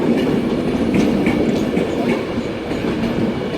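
A Class 390 Pendolino, unit 390 154, rolls through Carlisle on the West Coast Main Line with a steady rumble and rhythmic clickety-clack of wheels over rail joints, loud and close throughout.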